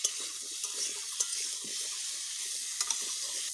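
Chopped vegetables with salt and turmeric are stirred in a pan, a soft scraping and light sizzle with a few brief clinks, fairly quiet and close, no voices.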